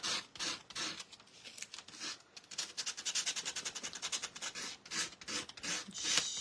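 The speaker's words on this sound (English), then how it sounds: "it doesn't hurt it to just sand it a little bit" A craft piece being sanded by hand, with quick rhythmic rubbing strokes that are steady and close.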